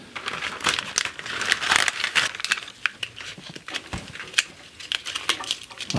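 Hands working a plastic cable sheath during a cable repair with tape nearby, producing a close, irregular run of crinkling, rustling and sharp little clicks and snaps, with no voice over it.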